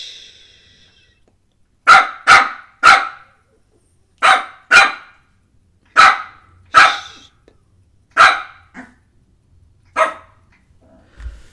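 A dog barks repeatedly and loudly close by, sharp single barks in uneven clusters separated by short silences, with no talking.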